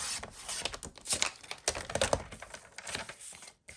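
Paper layers for a pyramid card are cut with quick, irregular snips and crisp rustling, close and fairly quiet, in a busy run of short bursts that stops abruptly near the end.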